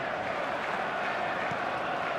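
Stadium crowd applause and cheering from an eFootball match, a steady broadband roar of clapping and voices held at constant level throughout, with no single voice standing out.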